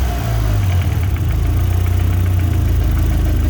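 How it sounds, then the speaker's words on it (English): A Mitsubishi Evo engine, with its turbo just reinstalled, idles with a steady low, close hum and slight vibration, and a faint knock is possible at one point in the idle. "There appears to be a very faint knock from the engine at a certain part of the idle."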